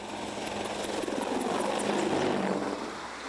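A Boeing AH-64 Apache Longbow attack helicopter roars with a loud, continuous rotor and engine drone that swells slightly and then eases off near the end, with no voices.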